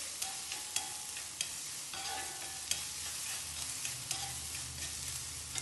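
Chopped onions sauté with a steady sizzle in a pan while a spoon stirs them, giving regular sharp scrapes and taps. The frying is close and even, and no one speaks.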